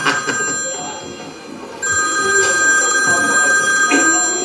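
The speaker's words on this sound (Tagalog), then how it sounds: "May telepono." A telephone rings indoors with a bright, sustained electronic bell tone that stops briefly and then resumes, clear and fairly loud over faint room noise.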